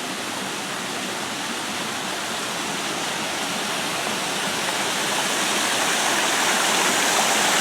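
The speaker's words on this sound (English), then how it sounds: "Hopefully you can hear the water already." Steady broadband rush of running water from a man-made garden stream and small waterfall at a flowering garden in Fallbrook, close and continuous, gradually growing a little louder, with no talking.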